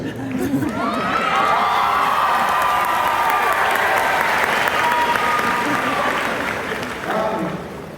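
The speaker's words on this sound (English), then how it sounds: "So Nick Julian got the biggest ovation." An assembly audience at a basketball state championship celebration gives a player a long, loud ovation, with dense applause and cheering that fills the room and then fades.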